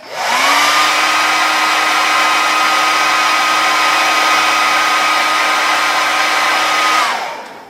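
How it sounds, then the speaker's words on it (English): A blow dryer runs steadily for about seven seconds, a loud, even whir with a constant tone, heating fresh paint on a resin garage kit bust, then cuts off at the end. "just kind of hit it with the blow dryer"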